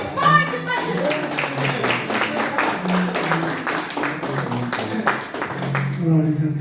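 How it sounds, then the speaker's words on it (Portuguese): Church congregation clapping for Jesus during a Portuguese-language worship service, dense broadband hand claps sustained throughout alongside singing voices and music, loud and close. "As palmas bem fortes para Jesus."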